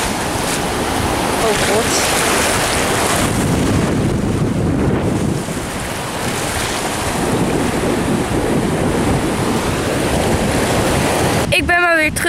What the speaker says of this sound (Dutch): Maar er staan in ieder geval wel heel veel golven.